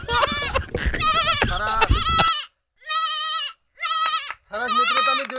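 A child imitates a goat's bleat with the voice, producing a run of wavering, nasal bleats in short bursts separated by brief silences, loud and close.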